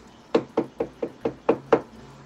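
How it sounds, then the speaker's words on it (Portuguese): Seven sharp knocks on a front door, evenly spaced in a quick rhythm, close and clear with a short ring after each rap, against a quiet background with no talking. "Só preciso bater na porta"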